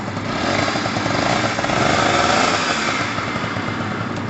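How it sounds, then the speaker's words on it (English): A Pulse Force 50cc two-stroke motorbike engine starts and runs steadily, a loud, buzzy, rapid idle that stays close and continuous throughout with no talking. "Let's get it fired back up. It's a two-stroke, guys. It takes a while to warm up."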